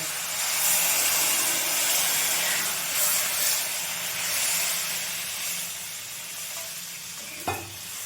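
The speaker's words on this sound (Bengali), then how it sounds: "কষিয়ে নিয়েছি, এরপর আমি জল দিয়ে দেবো।" Water poured into a hot pan of papaya and lentil curry, a steady loud sizzling hiss that churns on throughout, with a short sharp clatter near the end.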